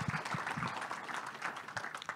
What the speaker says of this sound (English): let's welcome David with applause